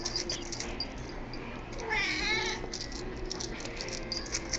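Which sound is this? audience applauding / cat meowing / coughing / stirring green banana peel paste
cat meowing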